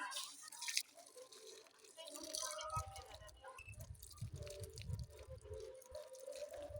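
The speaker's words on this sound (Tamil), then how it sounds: "தண்ணியை ஊற்று" Water poured onto a newly planted parijatham plant in the soil, with dripping and splashing that start after a short pause and continue unevenly, fairly faint, while people talk quietly nearby.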